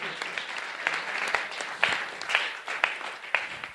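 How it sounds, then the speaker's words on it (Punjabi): Congregation at a Sunday church meeting breaks into sustained applause welcoming Jesus Christ, a dense crowd of clapping with a few louder claps standing out, fairly steady across the whole stretch with no voices over it. "ਇੱਕ ਵਾਰ ਜ਼ੋਰਦਾਰ ਤਾੜੀਆਂ ਨਾਲ ਯਿਸੂ ਮਸੀਹ ਦਾ ਸਵਾਗਤ ਕਰੀਏ"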